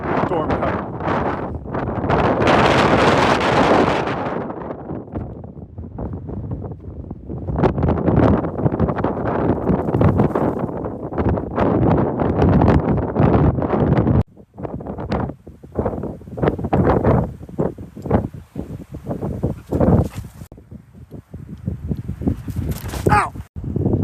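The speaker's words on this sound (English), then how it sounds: "It's windy." Strong mountain gusts buffet the microphone in loud, irregular bursts of rumbling wind noise, easing and surging over the whole stretch.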